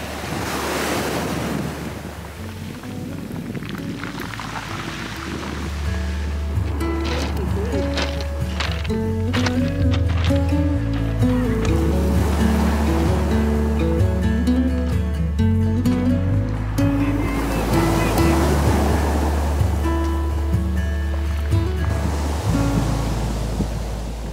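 Sea waves rolling onto the shore with gusty wind buffeting the microphone, loud and continuous surf swelling and breaking repeatedly with no talk over it.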